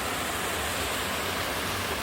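Small waterfall on a stream swollen by recent rain, giving a steady, dense rush of falling water that stays even and continuous throughout, with no voices.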